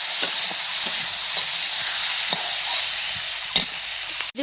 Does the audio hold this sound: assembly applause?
no